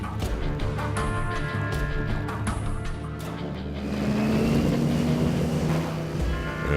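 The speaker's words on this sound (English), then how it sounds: "he's going to attempt to run the donkey at full speed and blow the engine out" A donkey engine, emptied of its crew's load, is pushed to full speed: a loud, steady mechanical drone whose pitch climbs partway through and then holds at a strained high whine, with no talk.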